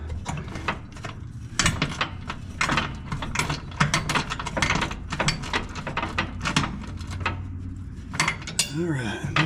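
A ratchet loosens a bolt on the 48-inch mower deck of a John Deere S140, giving rapid metallic clicking strokes in quick repeated bursts, close up.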